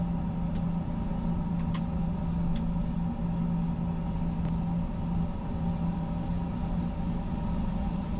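Airbus A350-900 engine spooling up in the cockpit during pushback, a steady low drone with a constant hum and faint high ticks, continuous and fairly loud.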